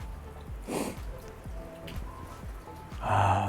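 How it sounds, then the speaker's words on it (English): Rain falls during a trip in Kawagoe, making a steady patter with a few louder splashy bursts, including a strong one at the end, and no one speaks. "The sound of the rain."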